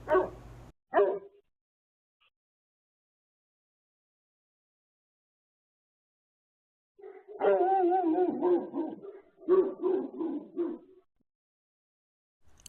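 A livestock guardian dog barks twice sharply up close, then after a long silence lets out a run of drawn-out, tonal barking and whining vocalizations in two bursts.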